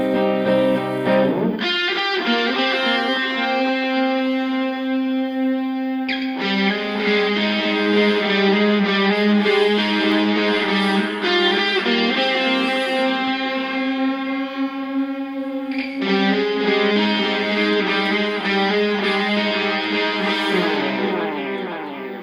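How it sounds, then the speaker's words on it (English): Electric guitar part drenched in a Softube tape echo plugin, sustained distorted chords with repeating echo tails and reverb, played alone and loud throughout with no talking. "you can hear the tape echoes from Softtube on there"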